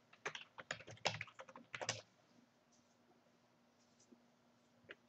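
Close typing on a computer keyboard as a password is entered, a quick flurry of key clicks for about two seconds, then near silence with one or two stray taps.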